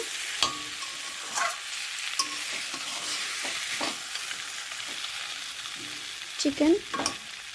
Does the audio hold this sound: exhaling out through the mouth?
no